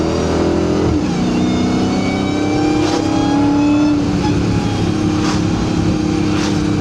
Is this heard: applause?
no